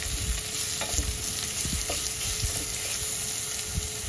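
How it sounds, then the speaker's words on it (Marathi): Ginger-garlic paste sautéing in a pan for a coconut-milk pulao, a steady close sizzle with repeated scraping stir strokes of a spoon against the pan. "आपण यामध्ये चमच्यावर आलं लसूणची पेस्ट घालूया आणि पुन्हा आपण छान परतून घेऊया।"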